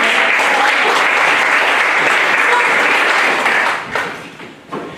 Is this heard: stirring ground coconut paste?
no